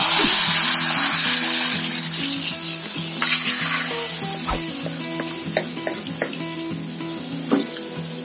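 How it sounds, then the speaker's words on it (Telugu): Garlic and curry leaves sizzle hard in hot oil as the tempering is tipped into Malabar spinach dal with avakaya pickle, a loud steady crackle with scattered clinks of a pan and spoon, no talking. "ఈ పోపుని ఇప్పుడు పప్పులో యాడ్ చేసుకోవాలి"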